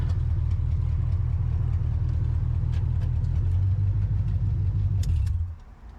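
A 1980 Camaro, back on the road after a decade and low on fuel, rolls into a gas station with its engine emitting a loud, steady low rumble up close that cuts off near the end.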